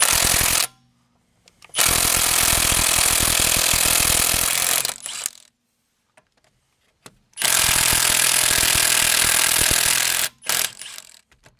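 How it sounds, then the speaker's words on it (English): A mid-torque impact wrench zips 17 mm lug nuts off a 1988 BMW 325i during a brake job, with two loud, sustained rattling hammering bursts separated by silence, each ending in brief stuttering taps. "Nothing the mid-torque impact can't handle."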